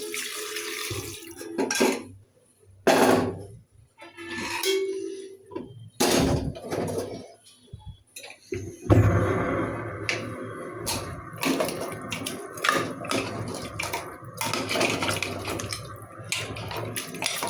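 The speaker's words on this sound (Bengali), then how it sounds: "কড়াইটা ধুয়ে প্রেসার কুকারে জল দিলাম" Water running and splashing into a pressure cooker in a home kitchen while cooking Bengali mutton nihari, coming in uneven bursts with clanks of a washed pot, close and fairly loud.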